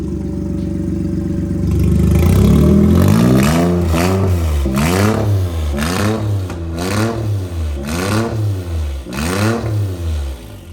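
A GR Yaris three-cylinder engine in a Toyota AE86 revs repeatedly through a very short, raspy exhaust, rising and falling in a series of loud, blatty bursts with no talking.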